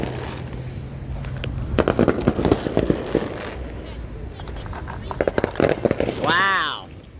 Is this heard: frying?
no